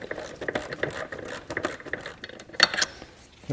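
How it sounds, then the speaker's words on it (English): Ratchet tightening the bolts that hold an EGR valve to its bracket on a Ford Escape 3.0L, giving a run of quick, close clicking strokes with brief pauses and one sharper burst near the end. "I'll take the ratchet, tighten these down the rest of the way"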